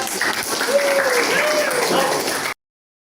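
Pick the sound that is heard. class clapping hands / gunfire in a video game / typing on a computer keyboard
class clapping hands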